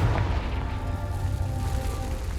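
Confringo blast spell cast in the video game Hogwarts Legacy, a loud, deep booming burst that rumbles on briefly with low-end weight.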